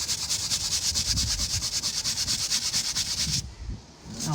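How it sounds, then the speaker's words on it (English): A car seat belt is scrubbed up and down with a brush, giving a fast, even run of rough rubbing strokes close up that stop suddenly near the end. "see the dirt coming out of it as I scrub"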